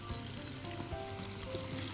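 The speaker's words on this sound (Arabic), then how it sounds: "ابتدى يغلي اصلا، ابتدى يغلي وخد القوام اللي احنا عايزينه" Béchamel sauce bubbling and simmering in a pan on the stove as it thickens, a steady soft sizzling hiss with small pops, close and continuous, with no voices.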